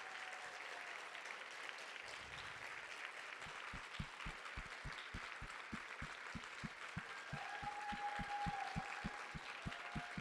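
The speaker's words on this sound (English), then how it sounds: "can we give everyone another round of applause, please?" An audience at an education showcase event claps. A broad hiss of applause runs throughout, with a steady rhythmic low thumping in the second half, like a beat or stomping, and a brief tone partway through.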